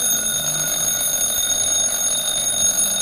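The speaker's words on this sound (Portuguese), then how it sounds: "quanto mais despertador, melhor" A loud electronic alarm clock rings nonstop with a piercing, steady high-pitched tone that fills the whole stretch, with no voices over it.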